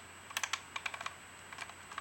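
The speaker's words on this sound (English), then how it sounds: "So then I'm going to wind the film until the" Film being wound on a Holga camera loading 35mm stock, a quiet run of small ratcheting clicks in uneven bursts, close up, with no talking.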